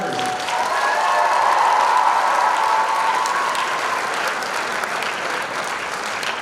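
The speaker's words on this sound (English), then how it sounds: "So can we get a big round of applause for all 4 of our founders?" A high school audience at a showcase event breaks into a big round of applause for the four club founders. Dense, sustained clapping fills the room and stays loud from start to finish.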